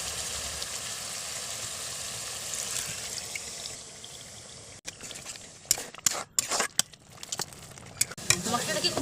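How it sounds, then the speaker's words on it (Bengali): Spice paste with coconut milk stir-fried in a pan for a chicken curry, giving a steady sizzle with scraping stirs that grow louder and more clattery near the end. "এটাকে খুব ভালো করে কষিয়ে নেব, আর বাকিটা আমি পরের বারে দিয়ে ভালো করে কষিয়ে নেব।"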